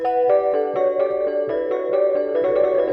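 The Childish keys preset from the Anatu plugin plays a bright, bell-like melodic line of short repeated notes in a steady, bouncy rhythm, clear and upfront with no voices.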